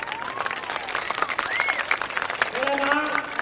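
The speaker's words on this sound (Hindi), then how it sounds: "मैं आप सबसे अपील करता हूं कि एक बार जोरदार इनके लिए ताली बजाइए।" Crowd at a political rally in Lohanipur, Bankipur, claps steadily in a dense, sustained burst, with voices and cheers mixed through the applause.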